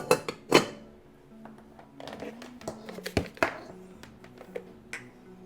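Metal pot lid clattering onto a cooking pot with summer squash, a few sharp clinks and taps, then light rattles and handling noises at close range.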